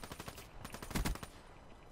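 Automatic gunfire in a first-person shooter video game rattles in quick bursts of shots, faint and somewhat distant, with one louder cluster near the middle before it trails off.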